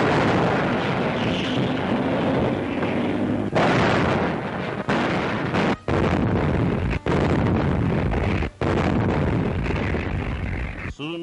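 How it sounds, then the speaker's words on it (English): Heavy and light artillery fire from World War II in an old newsreel, a dense, loud, continuous roar of barrage with brief gaps and sharp breaks in the sound, with no narration over it. "Heavy and light artillery prepared the way for the advancing armies."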